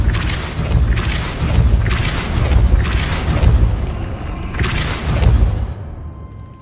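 Depulso force spell cast in the Hogwarts Legacy video game, heard as loud repeated booming thumps in a pulsing rhythm, roughly four heavy bursts, with no talk.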